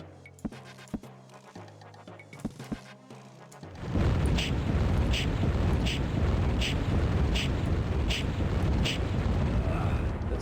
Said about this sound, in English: That's a lot of pushback from the explosions.